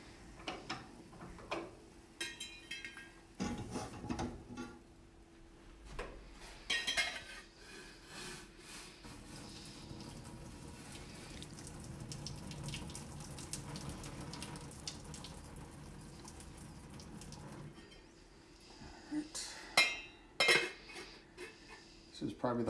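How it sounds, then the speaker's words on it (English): Cooked pasta noodles being drained in a kitchen sink, with splashing water, clinks of pots and utensils and a rushing burst in the middle, under intermittent talk. "draining it without losing the noodles"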